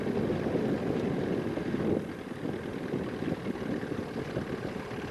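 Motorboat on the Tietê river near Itaju, a steady engine drone mixed with water rush and wind buffeting on the microphone, fairly loud and continuous.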